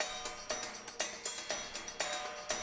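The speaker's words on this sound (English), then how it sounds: "I've got quite an upbeat little percussive loop going on." An upbeat percussion loop with crisp, evenly spaced hits and a bright, busy rhythm that repeats steadily, close and moderately loud, with no voices.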